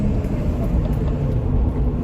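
Interior of a car driving through a busy area, a steady low engine and road rumble filling the cabin, continuous and fairly loud, with no clear voices.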